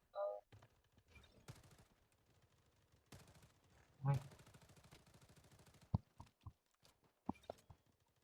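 Short bursts and single shots from an MP5 SMG in the mobile game Blood Strike pop out between and under excited talk, with quiet gaps in between.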